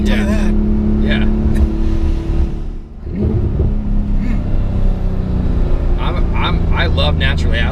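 A 2019 Porsche GT2 RS turbocharged engine revs and roars hard under acceleration, loud and sustained with a brief dip in the middle, while people talk and exclaim over it.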